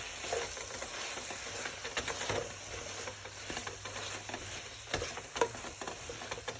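Chopped radish and zucchini sautéing in a pan for Korean spicy tofu soup, a soft crackling sizzle with light irregular pattering and occasional stirring clicks.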